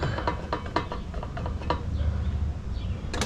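Quick ratchet clicks in short bursts, close up, as caliper bolts are run in by hand on a Harley Lowrider ST brake, with no talk over it.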